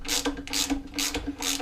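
A ratchet clicks rapidly in four short bursts while seated bolts are tightened on the handle of a Hayter Hayterette mower, close and crisp, with no voices.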